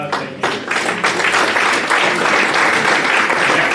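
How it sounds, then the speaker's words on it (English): Applause from the audience at a Lake County Republican Party meeting, starting with a few separate claps and quickly swelling into steady, full clapping that carries on loudly without speech. "Bob, a quick round of applause."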